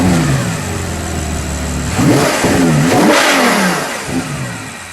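A 2021 Ferrari 812 GTS in Grigio Silverstone revs its 6.5-liter V12 from a steady idle, rising and falling several times. The engine is loud and close, with no talking.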